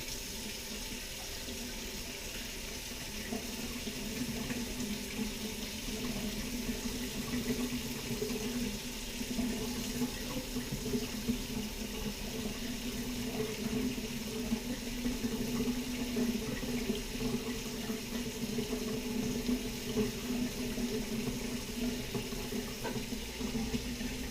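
Water runs steadily from a tap into a sink, a continuous splashing hiss that holds at an even level throughout, while waiting for it to get hot for pizza dough.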